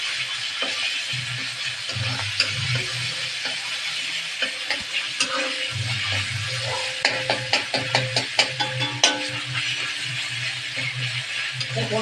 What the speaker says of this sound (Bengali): তেলটা কম হয়ে গেছে, এই জন্য আরেকটু দিয়ে আদা লঙ্কাটা একটু ভাজা ভাজা হয়ে আসলে